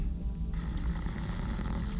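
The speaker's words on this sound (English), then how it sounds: "Was it just him snoring?" A sleeping character snores in the stealth game Thief: Deadly Shadows, a steady, low rasping breath that carries on alone at moderate, close-sounding volume.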